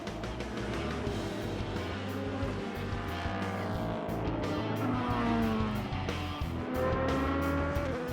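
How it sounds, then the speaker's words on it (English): Race cars, including a Porsche 919 Hybrid, compete in a 6-hour endurance race in Texas, their engines droning and whining continuously as cars pass, with pitch sweeping up and down through the whole stretch and no voices. "6 hours of sudorific racing in Texas pushes the fiercest competitors for the title to their limits."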